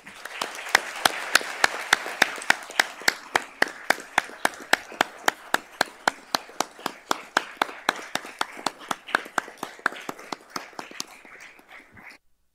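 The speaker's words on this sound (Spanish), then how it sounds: "Brindemos ese aplauso en memoria de Rodolfo Stavenhagen" Seminar audience at an inauguration on Indigenous peoples' rights applauds in memory of Rodolfo Stavenhagen, a steady, evenly paced clapping sustained for about eleven seconds before stopping.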